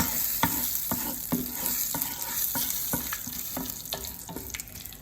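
Curry leaves and bay leaves sizzle in hot oil for a dal tadka, a steady crackling fry broken by repeated sharp clicks of stirring.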